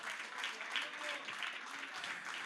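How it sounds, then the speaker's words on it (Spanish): A church congregation claps in praise during a service, a faint, continuous, even applause with a voice speaking over it. "dale un fuerte aplauso de alabanza al Señor."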